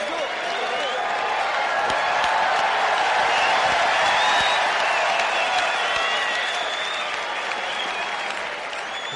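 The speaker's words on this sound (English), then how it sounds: "The crowd is cheering." A tennis crowd at the 1991 US Open applauds steadily with some cheering, a dense, even wash of clapping that holds for the whole stretch at moderate loudness, with no talk over it.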